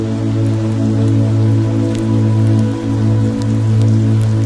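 Gentle rain patters on a window pane, sparse clicks and taps spread over a constant low droning background, steady and close, without any speech.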